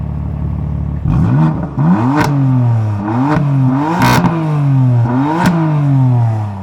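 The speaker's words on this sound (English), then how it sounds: "let's do some rev time with Vanessa" A BMW M3 engine revs repeatedly, loud and close, rising and falling through several quick blips in a rhythmic series with a mechanical clatter between the revs.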